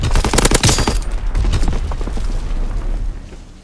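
Mortar rounds fire and explode in a military video game: a dense, loud volley of sharp blasts and cracks crowds the opening second, then rolling booms and rumbling decay trail off to near silence.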